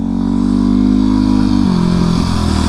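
A Yamaha WR 250 dirt bike engine runs close and loud with a steady buzzing drone, its pitch dropping slightly partway through as the throttle eases.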